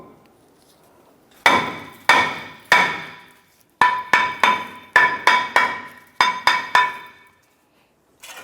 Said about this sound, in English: we use our hammer to give this a couple loving bonks to break it free